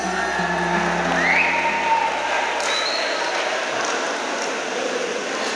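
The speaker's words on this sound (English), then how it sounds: "give them a big round of applause" Audience applause at a polytechnic annual day prize ceremony, a steady wash of clapping with crowd murmur and some voices mixed in, held evenly for several seconds.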